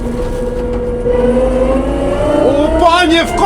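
Engine of a Chinese AUPAX combine harvester driving fast, a steady close droning hum whose pitch climbs gradually as it speeds up, with people talking over it.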